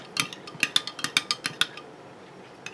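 Clove gel room freshener being stirred in a dish: a rapid run of about a dozen light, sharp clinks from a utensil against the dish, close up, then fading to quiet. No one speaks.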